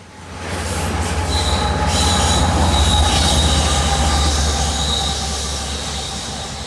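A BNSF freight train of grain and double-stack cars rolls steadily past close by at a shoreline park, with a deep rumble of cars and a thin high squeal from the wheels on the rails.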